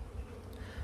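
Honey bees buzz at a beehive during grid placement before the honey flow, a faint, even drone with no voices and no breaks.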